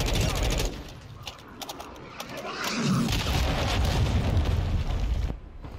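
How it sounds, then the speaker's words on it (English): Cruise missile strikes in Call of Duty: Modern Warfare hit with heavy explosions and a long rolling boom, mixed with gunfire bursts, loud and dense before cutting off. "Hostile cruise missile incoming."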